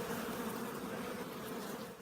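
Honeybees drone in a continuous, dense buzz at a beehive in a bee yard, heard up close and steady throughout without any voices.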